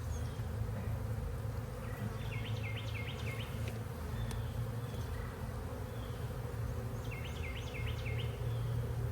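Honeybees buzz in a dense, continuous drone around an open hive during a hive split, with faint higher chirps over the constant hum and no voices.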